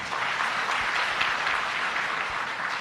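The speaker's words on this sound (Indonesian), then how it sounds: "Tepuk tangan dulu mungkin untuk alumni." A crowd claps steadily at a medical school oath ceremony, a dense wash of applause that holds at an even level throughout.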